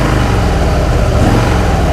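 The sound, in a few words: motorcycle engine idling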